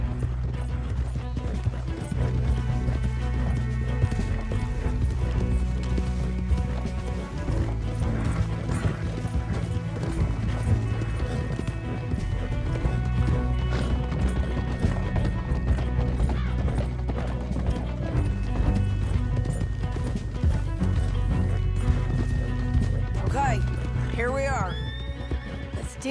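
Horses gallop in the Red Dead Redemption 2 video game, with busy hoofbeats and occasional whinnies under a continuous game soundtrack. People talk throughout.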